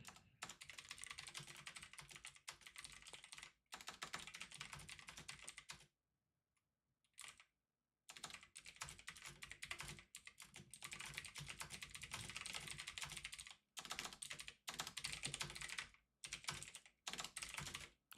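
Rapid clicking on a computer keyboard at a live day-trading desk, bursts of fast typing broken by a short pause near the middle, fairly close and clear with no talk.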